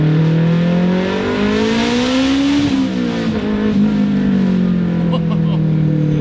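A 500-horsepower all-wheel-drive Acura Integra engine accelerates hard, loud continuous revving rising in pitch then dipping briefly as it shifts and climbs again, heard from inside the car.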